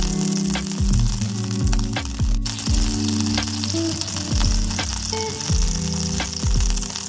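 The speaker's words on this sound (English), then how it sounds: "Toss in the garlic and salt it gently until it turns a light golden brown." Garlic frying in olive oil in a pan with salt, a steady bright sizzle over lower clattering and scraping sounds, close and loud with no talk.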